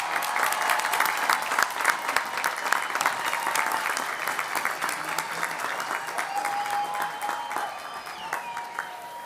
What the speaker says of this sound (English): You may now applaud these graduates.